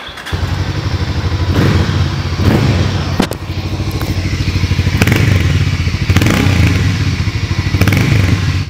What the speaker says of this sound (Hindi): इसका जो एग्जॉस्ट नोट है वो काफ़ी यूनिक है